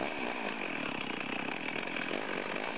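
A Stihl chainsaw cuts through a log, its engine buzzing loud and steady at high revs throughout, close by and alone without voices.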